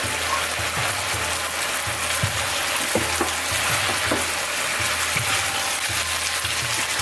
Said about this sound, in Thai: จากนั้นก็ใส่หัวหอมที่เราผัดลงไปนะคะ